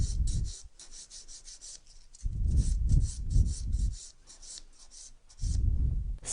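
Acrylic nail being filed with a hand file, angled along the cuticle edge in a nail-extension session: close, dry rasping strokes in a few rhythmic bursts separated by short pauses, with no talking.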